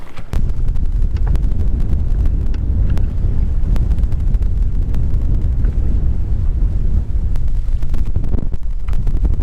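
Strong wind buffets the microphone on a bass fishing boat out on a lake, a loud continuous low roar with gusty rumbling and scattered small knocks.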